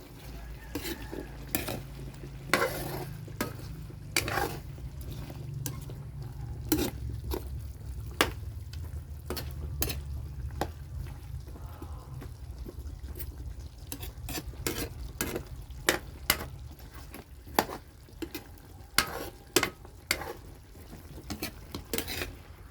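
Carrots and sweet potato stirred in a chicken curry pot, repeated sharp spoon scrapes and knocks against the pot over a soft simmering sizzle, close and fairly quiet.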